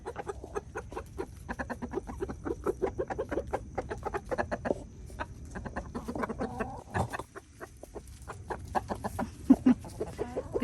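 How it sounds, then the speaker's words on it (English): A rooster and hens cluck on the Laux Family Farm, with a rapid string of short, close clucks and calls coming in uneven bursts, and no voices among them. "Here's the mean rooster."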